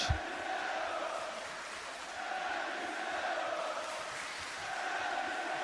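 Large Parisian crowd at a live WWE Raw wrestling event, a sustained roar of cheering and chanting that holds steady at moderate distance throughout.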